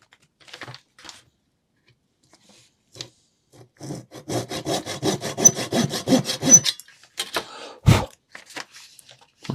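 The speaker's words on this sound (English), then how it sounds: "so these razor saws are incredibly sharp, so you don't need to go very deep" Sharp razor saw cutting thin wooden planks for a scale ship gun deck model, a few isolated scrapes and then a fast run of rhythmic close sawing strokes, ending with a sharp knock.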